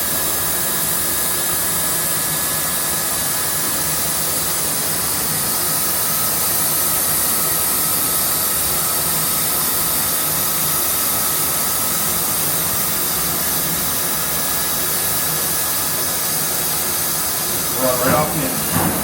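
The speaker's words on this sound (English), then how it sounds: "It's probably the nicest weld I've ever done on." A welder runs a bead at the SEMA 2025 show, making a continuous broadband hiss and crackle that holds steady for the whole stretch, with a brief clatter near the end.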